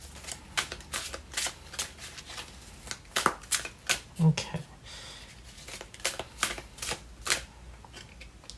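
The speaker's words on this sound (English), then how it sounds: "let's give it a bit more of a shuffle for our second pile here" Tarot cards being shuffled by hand, a quick run of crisp riffling and papery slaps close by, with a brief spoken word partway through.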